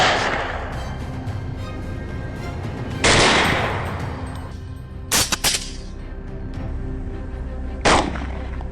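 Rifles fire at wild boars: several loud, sharp gunshots spaced a few seconds apart, each cracking out over a steady rumbling background, one shot a quick double.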